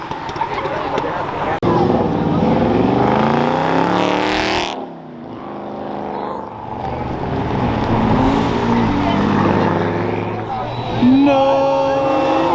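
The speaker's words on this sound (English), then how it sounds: "Here comes the Ferrari." A Ferrari drives past with a loud, harmonic engine note that rises as it nears and revs, dips briefly, then swells again and moves away, with people talking over it nearby.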